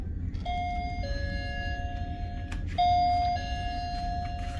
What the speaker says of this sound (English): And I do have a doorbell.